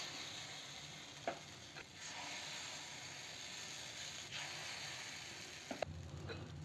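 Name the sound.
paniyaram batter sizzling in the paniyaram pan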